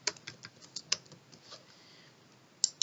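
Field names typed on a computer keyboard in short, uneven bursts of light key taps, close and fairly quiet, with a couple of sharper strikes near the end and no voices.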